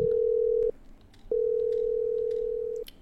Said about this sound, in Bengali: নিজের অফিস ঘর থেকে পুলিশকে ফোন করছেন